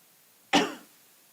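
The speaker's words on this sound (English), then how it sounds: "I want to cough." A single short cough, close and fairly loud, in an otherwise quiet room.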